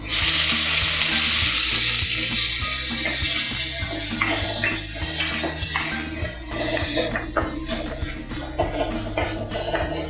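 Tomatoes and onions frying in a pan for a crab rasam, a steady close sizzle with occasional stirring scrapes, heard alone without talk throughout.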